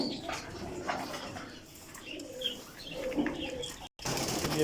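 Tasveer-breed pigeons coo softly in a loft shed, with low murmuring calls and faint chirps spread across several seconds amid light background noise.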